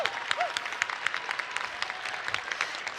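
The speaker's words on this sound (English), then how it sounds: "if I could get one big round of applause just for all of the teams that were here today" An audience at a robotics competition applauds the teams, a steady patter of clapping, moderately distant, lasting the whole stretch.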